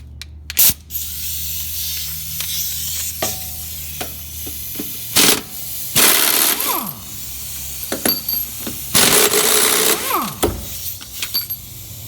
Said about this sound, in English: remove the two lower bolts that hold the strut to the lower control arm